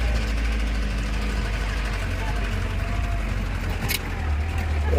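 An off-road vehicle runs through a rough forest track. Its engine idles and chugs loudly in a steady, close, low rumble while a person talks over it.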